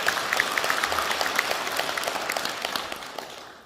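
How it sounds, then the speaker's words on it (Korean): A congregation at a Buddhist temple dharma service applauds in thanks, a large, steady crowd of clapping that slowly fades out at the end. "우리 형제 여러분에서 다시 한번 감사의 찬탄의 박수 부탁드립니다."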